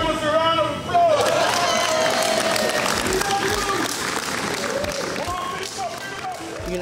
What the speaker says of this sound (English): Give the ladies a round of applause.